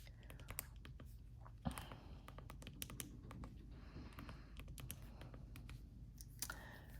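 Numbers being typed into a calculator or keyboard, quick light clicks in an irregular run across several seconds, faint and close against a low steady hum.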